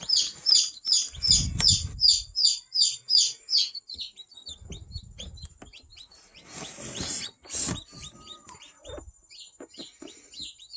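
Pet birds in a cage chirp in quick, high repeated bursts, loud and close, with brief wing flapping and rustling partway through.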